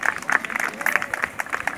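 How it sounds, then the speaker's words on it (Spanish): Crowd applause at a cycling race finish line, steady rapid clapping throughout the short stretch with an announcer's voice mixed over it. "Y los aplausos son para Roberto Orlando."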